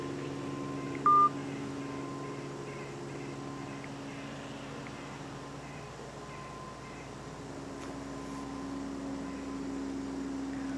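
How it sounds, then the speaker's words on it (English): A single short telephone keypad tone beeps once near the start, heard over a steady low hum and background noise on an emergency line, with no talking. "Hang up and dial 911."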